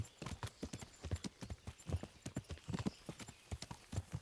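Horse hooves clip-clopping at a fast gallop in the medieval game Kingdom Come: Deliverance, a steady rapid rhythm of close, loud hoofbeats across the whole stretch with no talk over it.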